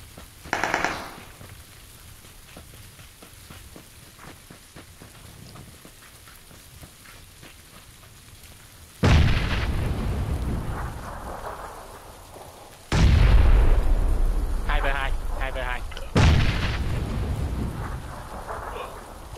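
Heavy bursts of gunfire and explosions in a PUBG match, loud broadband blasts starting around nine seconds and again near thirteen and sixteen, after a quieter stretch of faint distant shots; no clear talk over it.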